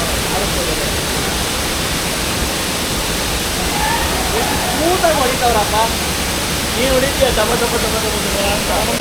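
Vate Halla waterfall near Siddapura, a loud, steady broadband roar of falling water heard close, with people talking over it.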